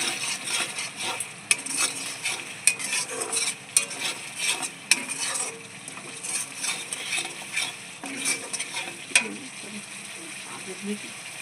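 A splash of water added to a frying pan while cooking Kashmiri dum aloo or basanti pulao, giving a continuous near sizzle with scraping and clacking of a spoon stirring throughout.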